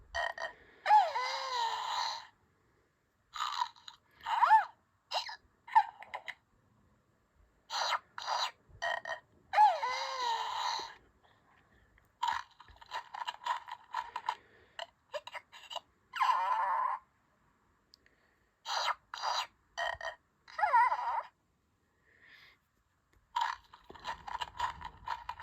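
A Furby Furblets Grogu toy plays its electronic sounds: repeated warbling, chirpy bursts come in short clusters with brief pauses, fairly close and with no talking.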